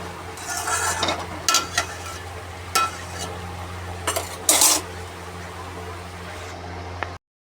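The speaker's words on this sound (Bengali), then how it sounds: "লঙ্কা গুঁড়ো, লবণ, হলুদ, লবণটা পরিমাণ মতো দিয়ে দিয়েছি। এবার একটুখানি নাড়াচাড়া করে একটু রেখে দিই" Ridge gourd being stirred in a pan with chili powder, salt and turmeric, a metal spoon scraping and clanking against the pan in irregular bursts over a soft, steady sizzle.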